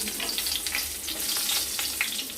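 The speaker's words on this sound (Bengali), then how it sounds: "এবার ওই তেলে আমরা ফোড়নে দিয়ে দেব শুকনো লঙ্কা, দিয়ে দিলাম শুকনো লঙ্কা আর এলাচ" Dried red chillies and cardamom sizzle in hot oil left over from frying catla fish, a close, busy crackle and spatter that pops repeatedly over a continuous frying hiss.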